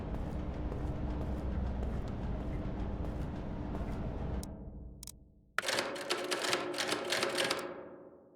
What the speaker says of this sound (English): Typewriter save style.